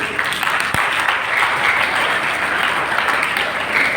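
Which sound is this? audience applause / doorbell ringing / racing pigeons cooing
audience applause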